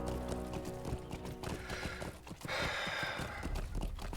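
In the video game Lord of the Rings Online, a horse's hooves clop rhythmically as it is ridden, loud and close over background music, with a brief breathy rush near the end.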